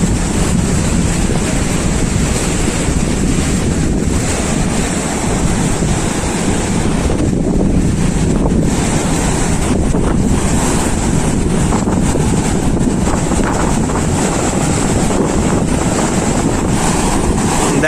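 Continuous roar of sea waves breaking at Mandarmani beach, loud and close, with heavy wind buffeting the microphone throughout and no voices.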